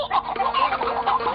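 Cartoon chickens clucking in a farmyard scene as they are fed, a quick run of close, bright clucks and short squawks repeating over about a second and a half.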